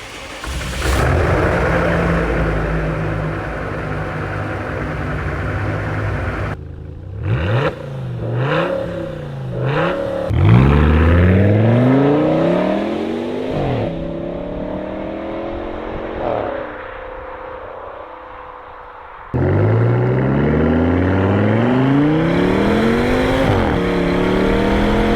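A custom V10 car engine running with no rear mufflers revs loudly and repeatedly, its pitch rising and falling in sharp bursts between steady high idle stretches, close and harsh with no talk over it.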